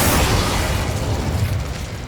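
Incendio fire spell cast in Hogwarts Legacy, a loud burst of roaring flame that swells at once and then rumbles steadily for about two seconds, dense and close with no voices.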